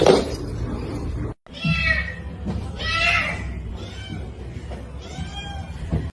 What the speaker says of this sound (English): You're a fat cat, can I get a fat cat?